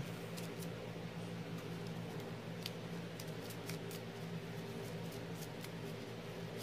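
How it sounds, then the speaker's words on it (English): A deck of Pokémon cards is shuffled with repeated quick riffling clicks over a steady hum, faint and close, with no talking. "Shuffle my deck back up."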